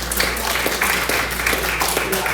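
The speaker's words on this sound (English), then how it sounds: "Well, I think we should give them a round of applause." Seniors at a kindness workshop give a round of applause, a dense, steady patter of clapping from a nearby group that lasts a couple of seconds, with voices mixed in.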